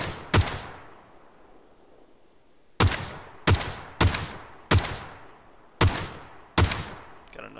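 Sniper rifle gunfire in the video game PUBG: one sharp shot near the start, then after a pause six loud cracks in quick succession, each ending in a short decaying tail, with no talk over them.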